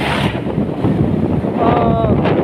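Strong wind buffeting the microphone on the road from Berastagi to Medan, a steady loud rushing roar filling the whole clip, with faint whistling tones briefly near the end.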